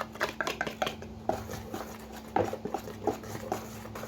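Spoon stirring a batter of flour, baking powder and salt in a bowl for banana fritters, with quiet irregular clinks and scrapes at close range and a steady low hum underneath.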